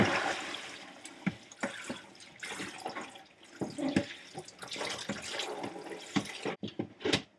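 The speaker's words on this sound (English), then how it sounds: "So once you rinse them out, and you make sure you got all that shampoo out" Running tap water splashes while shampoo is rinsed out of a wig, with irregular gushes and drips rising and falling close by over several seconds, no voices.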